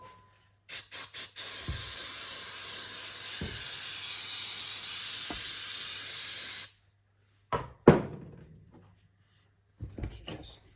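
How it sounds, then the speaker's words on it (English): Aerosol brake cleaner sprays in a loud, steady hiss on the front brakes of a Holden HJ wagon, running several seconds after a few short bursts, followed by brief clicks and clatters. "Where's the brake cleaner?"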